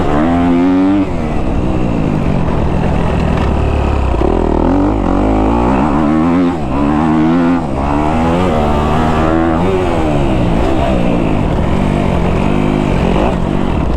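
A Yamaha YZ dirt bike engine revs and bogs through rising and falling throttle sweeps, loud and close for the whole stretch with no voices over it.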